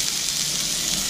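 Ginger frying in a hot pan gives a steady, close hiss of sizzling oil that holds evenly throughout the short moment, with no voices.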